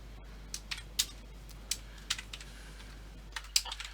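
Typing on a computer keyboard during a tabletop game session, a sparse run of soft, irregular key clicks with short pauses between them, close and quiet over a low steady hum.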